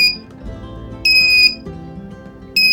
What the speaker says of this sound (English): you will get an information, an alert on buzzer